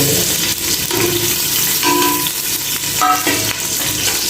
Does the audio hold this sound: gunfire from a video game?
no